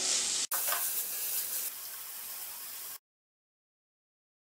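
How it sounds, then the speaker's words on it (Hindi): Broccoli filling with spices sizzling and frying in a pan on the stove, a steady close hiss that eases slightly partway through, then cuts to silence. "मसाले डालने के बाद इसको 2 से 3 मिनट और पका लेंगे"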